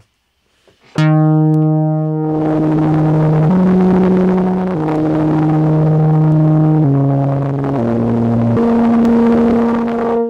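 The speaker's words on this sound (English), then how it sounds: "If I send it to the filter, you'll hear how it sounds." A synthesizer drone of noise sent through a filter, harsh and noisy, stepping between a few sustained pitches after a short plucked attack; loud, steady, with no voices.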